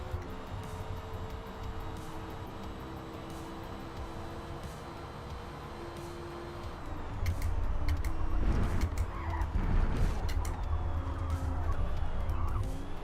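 A race car in Forza Motorsport oversteers. A steady engine drone runs under the first half, then grows louder and rougher as the tyres break into a sustained skid with scrubbing squeals that carry on to the end.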